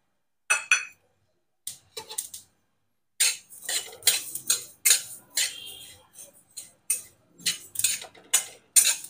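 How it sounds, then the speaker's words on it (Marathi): Flax seeds dry-roasting in a pan for a digestive mukhwas mix, giving sharp intermittent crackles and pops in short bursts, sparse at first and then denser and steadier, close and clear with no talking. "जवस तडतड वाजतंय म्हणजे आपलं जवस भाजून तयार झालं."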